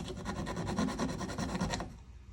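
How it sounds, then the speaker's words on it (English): A Nicholson file rasps over a handmade jaw harp in about a dozen quick, even back-and-forth strokes, close and loud, then stops abruptly. "Putting very little pressure on the backstroke because the file only cuts in one direction."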